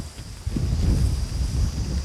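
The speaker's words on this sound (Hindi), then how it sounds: "यकीन मानिए कि हवा चल रहा है, गनीमत है," Steady wind blows outdoors along a road on a hot, sunny day during a foot journey in Bihar, India, buffeting the microphone with low, continuous rumbling gusts and no voices.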